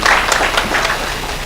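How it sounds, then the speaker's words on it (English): Applause from an audience greeting a country director at a global strategy launch in Abuja, Nigeria: a dense, steady wash of clapping filling the whole short moment at moderate loudness, with no talk over it. "Please applaud him and appreciate him."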